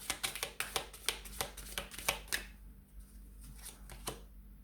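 Tarot cards being shuffled by hand during a love reading, a rapid series of crisp riffling flicks in steady rhythm, close and clear, then a quieter pause and one more soft card snap as a card is drawn.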